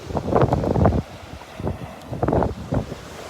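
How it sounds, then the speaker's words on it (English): Brisk morning wind gusts across a beach, buffeting the microphone in loud irregular blasts with a faint wash of surf beneath. "That wind is brisk this morning."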